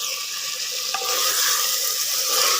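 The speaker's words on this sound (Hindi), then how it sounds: "इसको मैं डालूँगा और इसको अच्छी तरह इसमें मैं भून लूँगा" Chicken pieces fry in a pan while being stirred, a loud close-up sizzle with scraping movement throughout.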